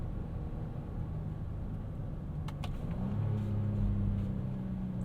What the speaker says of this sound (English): That V6 got a nice grunt to it